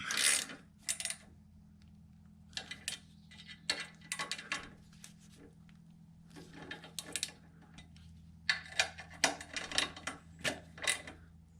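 A ratchet clicks in quick runs as bolts on a Harley crash bar are cranked tight, close by, in several bursts separated by short pauses over a low background hum.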